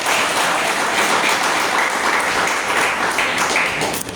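A church congregation applauds in praise of Jesus, the clapping dense and steady throughout with faint voices mixed in.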